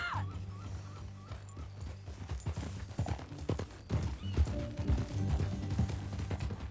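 Rhythmic clip-clop of horse hooves trots along steadily, joined by a short whinny, with a busy outdoor background, in the video game Red Dead Redemption 2.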